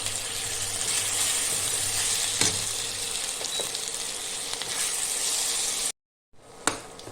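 Ginger, garlic and a mint, coriander and green chilli paste fry in oil with a steady close hiss and sizzle, occasional stirring clatters, then a brief silence before the sizzle resumes with a knock.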